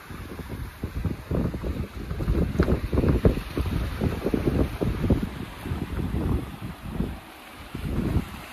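A sailboat moving fast under strong wind at sea, with steady rushing water and wind buffeting the microphone, fairly loud and continuous with pulsing gusts, no voices.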